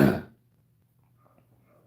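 A single short, close throat clearing, a brief rough burst that drops quickly into near silence.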